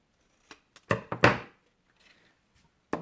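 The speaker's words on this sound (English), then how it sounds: "So cut off the excess." Scissors cutting excess paper off a handmade DIY tarot box, heard as a few sharp close snips and papery crunches in quick succession, then quiet with one last click.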